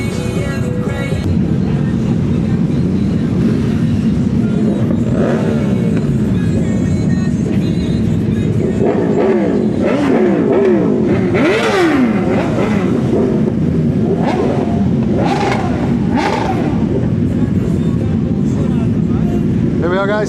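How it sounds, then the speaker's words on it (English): Superbikes pull in at the Ace Cafe, engines revving and rumbling loudly and continuously, with rising throttle blips through the middle. Voices and music run underneath. "as you can see, more and more bikes are arriving all the time."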